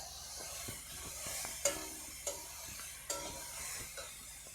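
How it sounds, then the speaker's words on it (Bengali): Grated carrots stirred and fried over a low flame in a pan for carrot halwa, a steady close sizzle with repeated scraping stirs and a few sharper clicks of the spoon against the pan. "এবারে গাজরগুলো দিয়ে দিচ্ছি, নেড়ে চেড়ে ভালো করে ভেজে নেব।"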